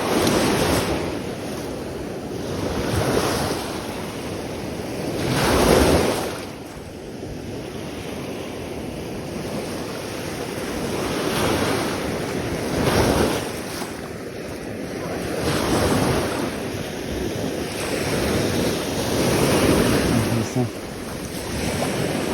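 Sea waves wash onto the shore during a midday light-rock-fishing trip for shrimp-baited fish, surging in steady rolling swells with several louder breaks, under strong wind buffeting the microphone.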